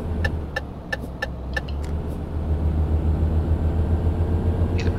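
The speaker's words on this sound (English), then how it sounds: "The car's coming." In Euro Truck Simulator 2, a car's engine hum rises steadily as it approaches, a low drone growing louder over several seconds with a few faint clicks early on.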